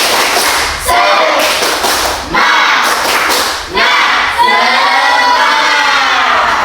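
A class of schoolchildren clap and chant an Indonesian 'tepuk semangat' cheer together in bursts, several rhythmic rounds separated by short pauses, loud and close, ending in a sustained shout.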